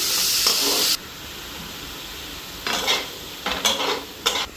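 Leafy greens with salt and green chilli frying in a pan, a loud hiss at the start that drops off after a second, then several short bursts of sizzling and stirring scrapes, with no voices.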